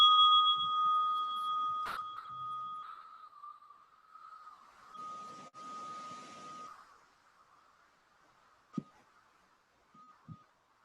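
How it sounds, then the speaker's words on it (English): A meditation bell is struck once, and its pure ringing tone hangs and slowly fades over several seconds in a quiet room, followed by a few faint soft knocks. "in a moment when you hear the bell"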